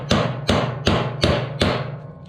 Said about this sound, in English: So I'm using this chisel, and I'm not hitting the shaft,